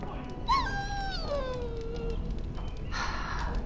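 A dog in a fantasy video game lets out a single whining howl that slides downward and fades, fairly close, followed by a brief rustle of game sound.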